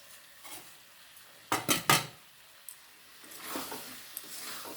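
Potatoes tipped into spiced masala in a pan for aloo dum, giving a cluster of sharp metallic clatters and scrapes followed by soft stirring and faint sizzling, close and fairly quiet.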